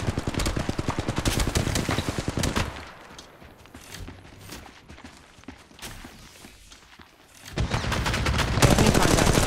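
Apex Legends Mobile gameplay opening with dense rapid gunfire, then a quieter stretch of scattered shots and footsteps before heavy automatic fire returns loud and close.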